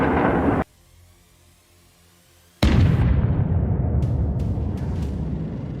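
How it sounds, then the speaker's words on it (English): A HIMARS missile striking a target sets off a sudden heavy explosion after a quiet pause, a loud booming blast followed by a long rumbling roar with scattered debris cracks. "Missile hits with pinpoint accuracy, destroying the target"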